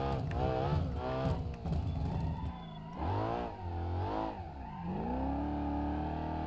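Coupe car engine with no turbo revving in the BeamNG driving game, rising and falling in repeated loud pulls with gear-like pitch sweeps, steady and close throughout.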